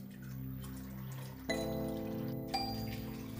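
Water poured from a container into a large pot of soaked split peas, a continuous splashing pour that changes pitch as the pot fills, with a couple of sharp clinks.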